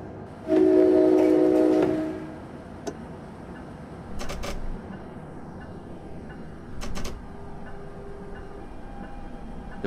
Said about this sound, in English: I've just turned on the bell there for a moment